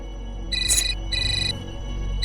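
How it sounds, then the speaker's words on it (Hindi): An electronic phone ringtone in a domestic drama scene sounds in repeated on-off bursts of a bright, steady tone over a low, continuous background bed, with no one speaking. "मैंने कहा बात करो, फोन उठाओ।"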